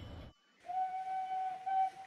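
A freight train runs in the OpenTTD video game, a steady tonal hum holding through most of the clip after a brief burst of noise and a short gap, moderately quiet.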